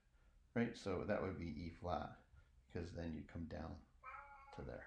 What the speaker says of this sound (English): that's my cat crying because I guess it wants to go out or wants food or wants attention